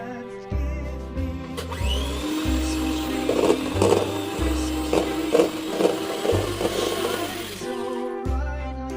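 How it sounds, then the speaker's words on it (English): Unsalted butter is beaten in a mixing bowl for a plum cake, most likely with an electric hand mixer, giving a loud continuous whirring drone broken by short rhythmic pauses and pulses, heard alone with no voices. "In a mixing bowl, add the unsalted butter and beat until soft."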